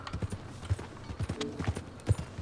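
Horse hooves clip-clop in Red Dead Redemption 2, a series of close, rhythmic thuds from a ridden horse at a steady gait, heard alone without talk.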